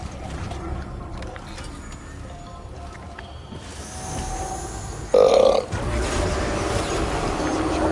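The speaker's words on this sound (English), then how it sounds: "I just burped." A person playing Death Stranding lets out one short, loud burp partway through, heard over continuous game background sound.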